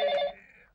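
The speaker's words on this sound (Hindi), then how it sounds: "फोन आ गया" A single short telephone ring, a bright electronic bell tone that starts loud and then fades away, heard alone without any talk.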